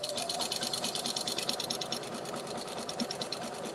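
A sewing machine stitches through thick quilt binding with a steady, close, fast-pulsing mechanical whir. The needle rhythm holds fairly even for the whole stretch, and no one speaks.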